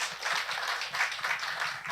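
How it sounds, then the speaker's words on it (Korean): Audience at a book concert clapping together, a dense steady patter of many hands at moderate loudness, heard on its own without voices. "박수 한번 주세요."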